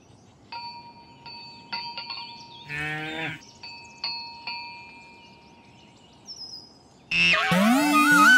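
A cartoon cow gives a single drawn-out moo partway through, surrounded by bright chime-like tones. A loud burst of lively cartoon music follows near the end.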